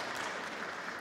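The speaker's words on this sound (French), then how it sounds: "Je comprends pas du tout que vous applaudissiez à ce moment-là." Studio audience applause during an interview with lawyer Richard Malka, a brief, steady wash of clapping at moderate level with no voices over it.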